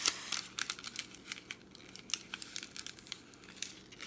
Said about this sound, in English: what I do with all my cupcake liners, I basically just fold it in half